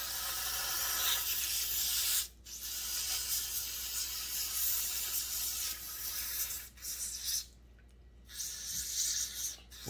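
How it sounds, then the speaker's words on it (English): A steady, close hiss of a water spray washing out a dirty Husqvarna 357xp chainsaw, interrupted by a few short pauses as the stream stops and restarts. "We're going to just wash this thing out really good."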